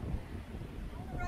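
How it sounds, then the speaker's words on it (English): Strong coastal wind at Santa Barbara before an outrigger downwind paddle buffets the microphone in a low, steady rush, fairly loud, with brief faint tonal sounds near the end. "and it is so windy"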